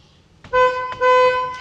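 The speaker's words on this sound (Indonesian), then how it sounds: "kalau klaksonnya gimana ya?" Two short, thin horn beeps from a BAIC T1 electric car sound close by, a brief toot followed by a slightly longer one.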